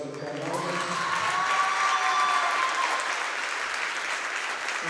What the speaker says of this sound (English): I'm going to run of applause for the Bombers.